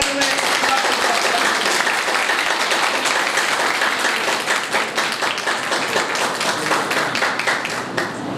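A church congregation gives loud, sustained applause to welcome the founding pastor at a Pentecost Eid service, dense clapping filling the whole stretch with scattered sharper claps throughout.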